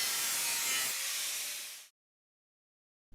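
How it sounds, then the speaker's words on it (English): An angle grinder cuts through a metal sheet in a continuous loud, hissing, broadband rasp for about two seconds, then stops abruptly into silence. "Now the sheet is being cut once more with the angle grinder"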